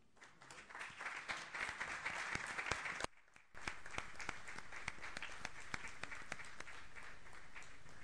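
An audience claps steadily at a literary prize ceremony, the applause briefly dropping out before resuming at a slightly lower, even level.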